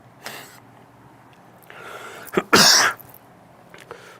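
Faint throat sounds followed by one loud, harsh cough, close to the microphone, with a softer breath after.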